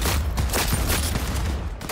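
Rapid gunfire bursts in the video game Cyberpunk 2077, dense and continuous with loud overlapping shots across the whole moment.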